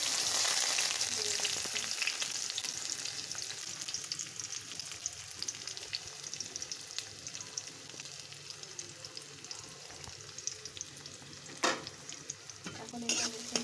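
Chopped garlic, onion and dried chilli frying in a pan, a continuous close sizzle with stirring and a couple of sharp utensil knocks near the end, one brief spoken word.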